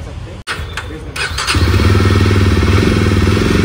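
A 2024 Jawa Bobber 42 motorcycle cranks with a few clicks and a brief starter whir, then fires up into a loud, throbbing idle close by.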